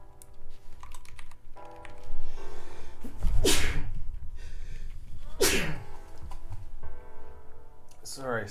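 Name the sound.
sneeze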